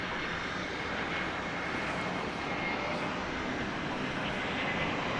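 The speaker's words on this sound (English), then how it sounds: "This is flight 2709 American Airlines. It's an Airbus A321." An American Airlines Airbus A321 takes off at DFW Airport at night, its engines giving a broad continuous roar heard from a distance without pause.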